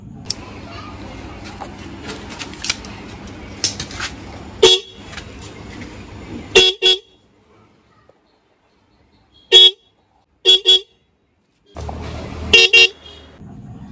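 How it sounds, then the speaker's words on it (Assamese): Dual horns fitted on a motorbike blare in several short, loud blasts, some in quick pairs, separated by silence, after a stretch of background bustle with faint children's voices. "আপোনাৰ যি কোনো বাইকতে ডুয়েল হৰ্ন লগাব পাৰে"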